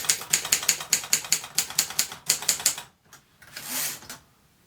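A Moskva-4 mechanical typewriter is typed on quickly, with roughly twenty crisp, evenly paced key strikes close by, then a pause and a softer mechanical whir.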